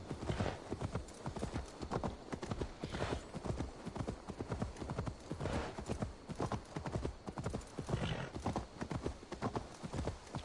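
Horse hooves in Assassin's Creed Valhalla, a steady rapid clip-clop of galloping running throughout at moderate loudness, with no talk.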